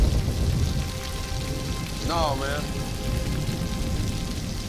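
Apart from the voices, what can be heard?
rain falling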